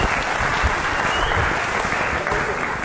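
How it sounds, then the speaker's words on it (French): An audience applauds a poet on a 1999 television broadcast, loud dense clapping from a crowd filling the space steadily and close. "Applaudissons pour le grand poète."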